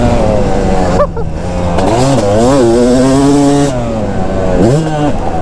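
A Yamaha YZ250 two-stroke dirt bike revs hard at full throttle on a trail, its loud, raspy engine note rising and falling through several throttle bursts with brief dips between them.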